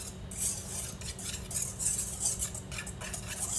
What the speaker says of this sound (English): and I whisk it